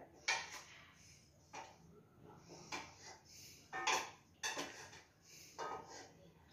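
A kadhai being set down carefully onto a hot pot, with several sharp metallic clanks and scrapes of cookware spread out, fairly close and moderately loud with quiet pauses between.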